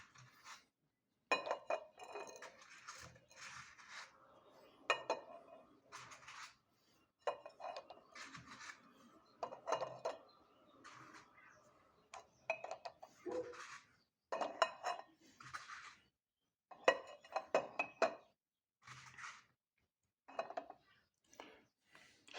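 Eggs set one after another onto a kitchen scale for weighing, giving a run of light clinks and knocks in irregular bursts with quiet gaps, close by and without talk.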